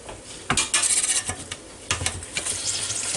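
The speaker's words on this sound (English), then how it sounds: "Oh, still sizzling." Close sizzling and frying of brisket in a Ninja Foodi Deluxe, with sharp metallic scrapes and clinks of a utensil against the pot, in irregular bursts with no talking.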